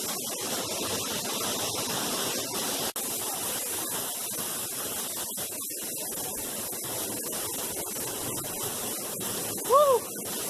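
A large waterfall near a volcano pours in a steady, broad hiss of spray close by, constant and loud throughout, with a brief excited vocal whoop near the end.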